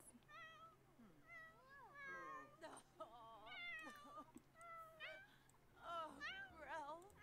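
Several cats in The Sims 4 meow repeatedly in short, rising and falling calls, overlapping one another at a steady moderate level over a faint background hum, with no talking.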